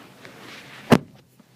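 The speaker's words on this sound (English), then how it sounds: "You open and close these doors." One solid, muffled thud of a car door shutting, close by, in an otherwise quiet space.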